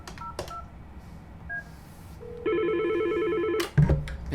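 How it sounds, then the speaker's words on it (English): Dialing an extension on a Yealink T58A phone: a couple of short key beeps, then a rapid run of distinct DTMF tones played close and clear, ending with a soft handling clunk. "I'm going to dial extension 202."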